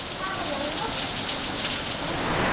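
Steady rain falls outdoors in a dense, even hiss of drops hitting surfaces, fairly loud and continuous throughout, with faint voices underneath.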